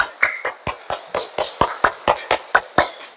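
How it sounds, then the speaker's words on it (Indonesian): A classroom of students clapping hands together in a fast, even rhythm, about fourteen sharp claps in quick succession, close and fairly loud with no talking. "Oke, tepuk tangan dulu dong."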